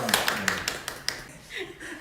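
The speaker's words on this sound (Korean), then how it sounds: "반갑습니다. 박수 한번." Brief audience applause at a tennis club introduction during an indoor gathering, a few scattered claps under a speaking voice and light laughter.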